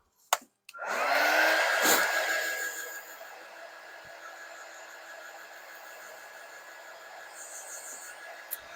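Hair dryer switching on with a click and roaring loud, then easing to a steady, softer whir as it dries a quilt block transfer, running alone until the end.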